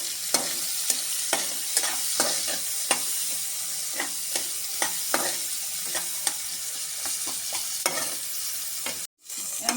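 Two large chopped onions fry in hot oil with cumin, sizzling steadily up close while a spoon stirs and scrapes the pan in regular strokes, with a brief cut near the end.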